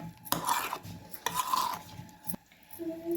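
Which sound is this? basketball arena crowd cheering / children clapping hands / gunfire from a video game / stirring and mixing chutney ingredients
stirring and mixing chutney ingredients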